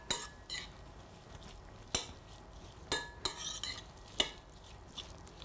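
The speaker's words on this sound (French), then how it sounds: "Donc on mélange bien." Bulgur being mixed with lemon juice and olive oil in a bowl, quiet stirring with a handful of sharp utensil clicks against the dish at irregular intervals; no talk.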